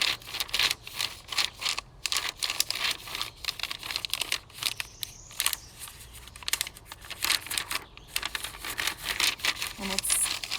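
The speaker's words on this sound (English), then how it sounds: "You rub the side of the crayon up and down against the paper." Crayon rubbed up and down on paper laid over tree bark to take a texture rubbing, a quiet close scratchy scraping in repeated strokes with short pauses.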